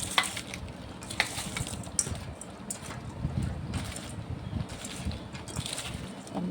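Green chillies are stirred by hand through curd and salt, producing a continuous close, wet squelching and rustling that churns unevenly throughout with no voices.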